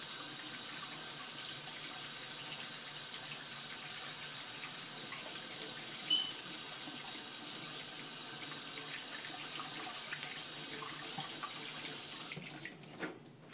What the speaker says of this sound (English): I'll run hot water right on it before I put it in my smoothies.